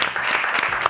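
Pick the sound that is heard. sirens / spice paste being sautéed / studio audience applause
studio audience applause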